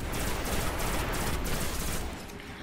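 Dense, continuous automatic gunfire in the video game Destiny, loud and rapid for about two seconds before easing off slightly.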